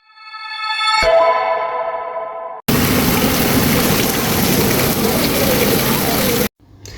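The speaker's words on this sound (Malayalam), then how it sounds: "ഇനിയിപ്പോൾ മഴയും കൂടെ പെയ്യുന്നുണ്ട്" Steady rain in an Indian village setting, a dense broadband hiss that holds loud and continuous for several seconds, preceded by a brief tonal musical jingle and cut off abruptly near the end.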